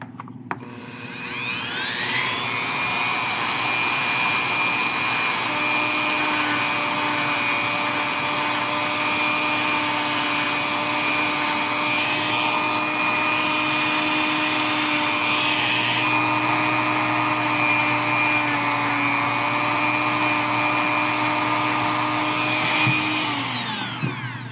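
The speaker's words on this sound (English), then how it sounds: "Okay, I need a straighter edge than this is going to give, so back to my cutting wheel" A rotary cutting wheel grinds steadily into wood while carving the rear legs of a project piece, a loud continuous whining drone that spins up, holds for about twenty seconds with slight pitch wavers, then winds down.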